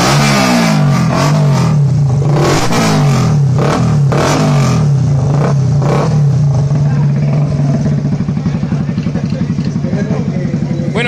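A Yamaha Crypton FI 170cc motorcycle engine revs loudly and repeatedly nearby for the whole stretch, settling into a rough, steady idle toward the end.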